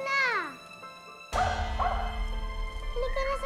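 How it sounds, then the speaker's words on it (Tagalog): A dog lets out a quick high yip, then after a short pause gives a louder bark or yelp followed by whimpering cries, close by over a busy background. "Kanina pa po siya tahol ng tahol."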